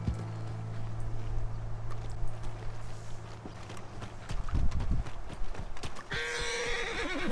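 A horse in Red Dead Redemption 2 whinnies and its hooves clip-clop steadily on the ground nearby, with a low engine-like drone at first and a bright rush of noise near the end.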